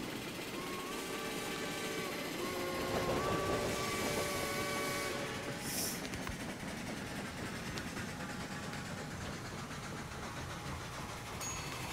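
A video game electric train hums and whines steadily as it runs, a continuous mechanical drone with a brief rise in pitch partway through.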